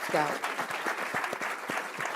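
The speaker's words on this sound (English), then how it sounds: "Round of applause for her, please." An audience gives brief, scattered applause, with individual claps audible at moderate level as a voice speaks over them.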